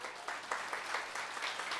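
Renewed round of audience clapping at a Chinese-language motivational talk, a short even burst of many hands at moderate volume.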